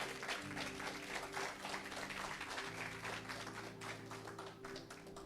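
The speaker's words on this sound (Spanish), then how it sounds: "denle un aplauso al Señor por eso." Church congregation applause and clapping fill the space, steady and broadband, with sustained musical tones humming underneath throughout.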